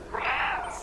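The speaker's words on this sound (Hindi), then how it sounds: "म्याऊं कर, म्याऊं म्याऊं" A single cat meow from the Stray video game, one short drawn-out call rising and falling in pitch, clear and close.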